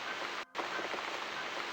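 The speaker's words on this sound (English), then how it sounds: "Looks like we've got the rain back." Soft, steady rain falls continuously in the video game The Cat Lady, a faint hiss that drops out briefly for an instant before carrying on.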